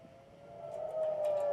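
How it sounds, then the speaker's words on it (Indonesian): An Israeli military warning siren sounds during an Iranian missile attack, a steady wailing tone that swells louder toward the end of a brief stretch with no voices. "Sirine peringatan dibunyikan militer Israel saat Iran meluncurkan serangan rudal."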